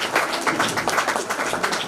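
A round of applause at a teacher's retirement gathering, a steady, fairly close patter of many hands clapping throughout, with no pause.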